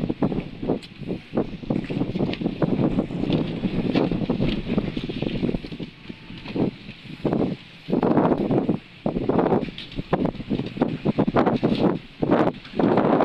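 Strong gusts roar and buffet the microphone in surges, rising and falling over a steady rushing background, in Placer, Surigao del Norte, Philippines.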